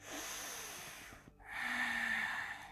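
A deep breath during a yoga session, audible as a long airy rush of inhaling and exhaling close to the microphone with a brief pause between, soft and unaccompanied by talk.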